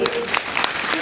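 Audience at a spiritual Gita gathering claps, a brief burst of applause lasting about a second that runs under a voice.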